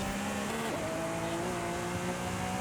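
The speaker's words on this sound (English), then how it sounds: "Sharp braking." A car in a video game brakes sharply, a steady engine drone with a rising tire squeal that bends in pitch and holds, moderately loud with no talking.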